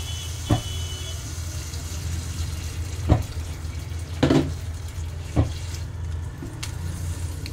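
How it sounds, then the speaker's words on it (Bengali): Hot water is poured into a thin papaya fish curry with greens and potato, a steady watery rush with a few sharp utensil knocks against the pot, no talking. "এবার আমি জল দিয়ে দেবো। আমি গরম জল করে নিয়েছিলাম।"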